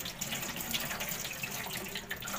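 Tap water runs steadily into a sink while a scaled hilsa fish is washed, a soft, continuous splashing flow with faint clatter, fairly quiet and close.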